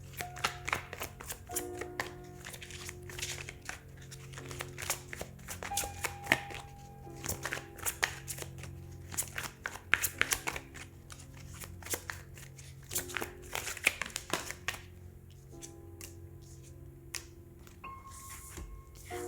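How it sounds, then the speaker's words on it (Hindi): Tarot cards are shuffled by hand in a run of crisp riffles and slaps, close and irregular, with a few soft pauses between bursts. "हम सबसे पहले आपकी कार्ड शफल कर लेते हैं"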